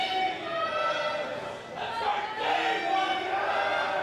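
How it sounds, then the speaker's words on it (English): Crowd noise at a gridiron football game at the NSW championships, a steady roar of cheering and shouting that holds loud throughout with a brief dip in the middle. "Crowd really getting into this today. Plenty of noise."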